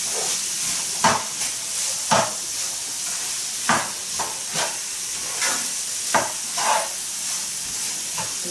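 Chicken curry puff filling being stir-fried in a pan at home: a steady sizzle and hiss with repeated scraping stirs of the spatula, close and clear, no talking.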